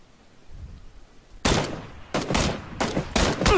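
Video game gunfire from a squad shooter: a handful of loud, sharp shots cracking in quick bursts after a quiet opening, with several closely spaced reports toward the end.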